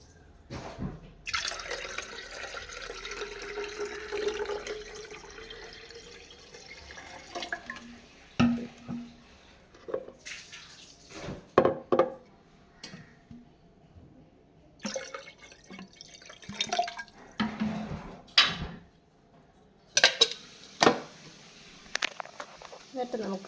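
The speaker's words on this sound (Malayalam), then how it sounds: "ഇതിലേക്കാണ് നമ്മൾ വെള്ളം ഒഴിക്കുന്നത്." Water is poured into a homemade lemon juice mixture in a kitchen, a splashy rushing pour near the start followed by scattered drips and clinks, with a person talking throughout.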